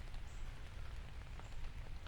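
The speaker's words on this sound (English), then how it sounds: "Moderate rain kicking in, hitting the canopy of the trees." Moderate rain falls on the canopy of huge forest trees, a dense, steady hiss of pattering drops with soft scattered taps, even and enveloping, heard alone without voices.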